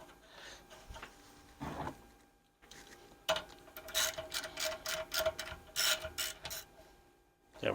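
Metal ratcheting and clicking from a 10mm bolt being reinstalled on top of a Honda GX120 engine on a Trucut edger, with quick rapid bursts of clicks, close and moderately loud, broken by brief pauses.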